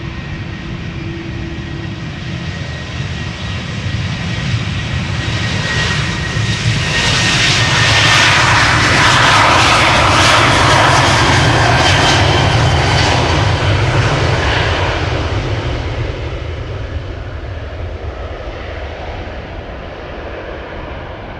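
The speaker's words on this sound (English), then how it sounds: "KLM flight 1031 to Person-Chester on its way." A KLM passenger jet departs Amsterdam Schiphol Airport on a misty morning. Its engine roar builds steadily, peaks loud and broad in the middle, then slowly fades as it climbs away, with no voices.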